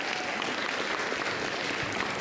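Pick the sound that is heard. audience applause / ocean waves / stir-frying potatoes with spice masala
audience applause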